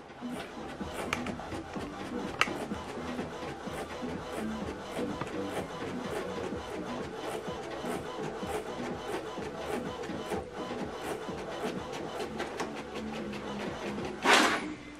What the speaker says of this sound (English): This document is going to print out from here.